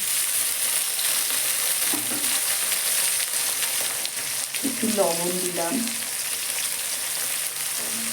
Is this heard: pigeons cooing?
no